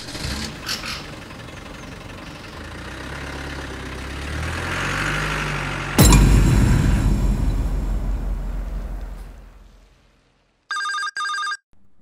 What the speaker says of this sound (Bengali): রাতে অরিন্দমের ফোন এলো।